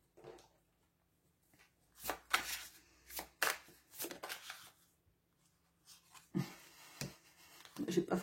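Tarot cards shuffled for a reading, scattered quiet riffles and taps in short bursts with silent gaps, close and soft, with a faint murmur of a voice at moments.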